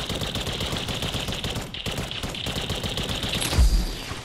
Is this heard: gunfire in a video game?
yes